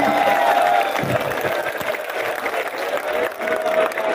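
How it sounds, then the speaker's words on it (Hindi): A large outdoor mahapanchayat crowd gives a speaker a thunderous welcome, with continuous, dense clapping that stays strong throughout and swells slightly near the end. "उनका एक बार जोरदार स्वागत कीजिए तालियों की गड़गड़ाहट के साथ।"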